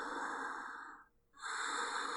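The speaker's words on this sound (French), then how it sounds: "rien d'autre que cette respiration lourde." Heavy, slow breathing down a telephone line, the eerie effect in a horror story: two long breaths, an inhale and an exhale, separated by a brief pause, with nobody speaking.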